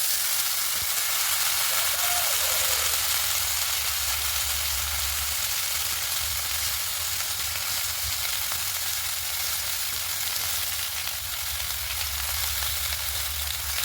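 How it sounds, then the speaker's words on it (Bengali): Cut vegetables, potato and eggplant among them, fry in oil in a pan for a Bengali fish curry, a steady loud sizzle throughout with a low hum beneath and no talking. "এবার আনাজগুলো একটু ভালো করে ভেজে নেব।"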